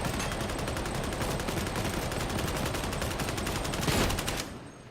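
Rapid, continuous gunfire from Warhammer 40K Darktide roars loud and close as a dense, unbroken burst, then cuts off near the end.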